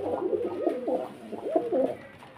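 Two pigeons offered for sale coo in soft, repeated throaty phrases, close by and fairly quiet, with no talking over them.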